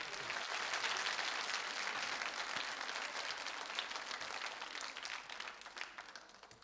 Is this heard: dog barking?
no